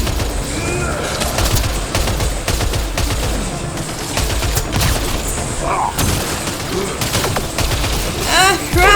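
Sustained automatic gunfire in Mass Effect Andromeda combat, loud rapid bursts and booms running almost continuously, with a voice speaking briefly over the shooting.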